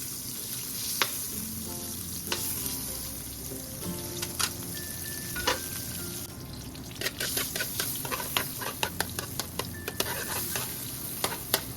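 Butter melting in a pan before garlic is added for buttered garlic Cajun shrimp and sausage, a soft crackling sizzle with scattered pops and some stirring scrapes, close and fairly quiet.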